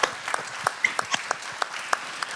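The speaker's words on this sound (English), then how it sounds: "if we could give everybody a round of applause" Sparse, scattered handclaps from a small forum audience at a smart city leadership event, thin and irregular rather than a full ovation, fading in and out over a couple of seconds.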